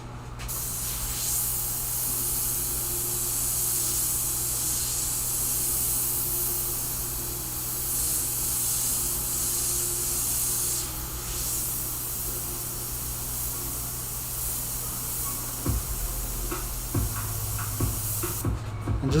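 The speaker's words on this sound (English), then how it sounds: "I'm just trying to get that red in there without getting overspray all over the place" Airbrush spraying red paint onto a shirt, a steady unbroken hiss of air that holds for most of the stretch before faint handling clicks near the end, no talking.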